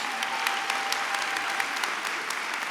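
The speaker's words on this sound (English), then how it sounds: "All right, a bigger round of applause for Kate." A graduation ceremony audience for a university arts and humanities class of 2024 claps steadily for a student speaker, a dense continuous round of applause with a few sharper claps standing out.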